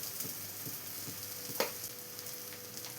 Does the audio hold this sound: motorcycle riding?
no